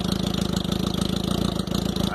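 A carbureted Honda Hornet motorcycle fitted with a sport exhaust with a 3-inch outer and 2-inch inner pipe idles with a loud, close, rapid burbling pulse that stays even and unbroken.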